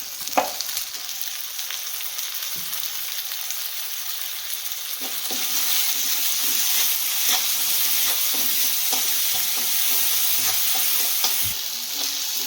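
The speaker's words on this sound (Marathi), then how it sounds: "आता आपण यामध्ये ॲड करणार आहोत टमाटर." Tomatoes frying in hot oil with onion and ginger-garlic paste while cooking goat liver fry, a steady close sizzle with stirring scrapes throughout, no voices.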